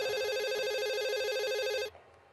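A telephone rings with a steady warbling electronic trill, loud and close, for almost two seconds before it cuts off abruptly into near silence.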